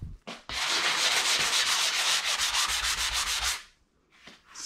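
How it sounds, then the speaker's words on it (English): Harsh, continuous abrasive scraping of sanding, loud and close, running steadily for several seconds before stopping, followed by a couple of brief rubbing strokes. "All right, let's get sanding."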